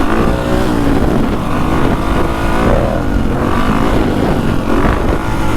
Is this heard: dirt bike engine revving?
yes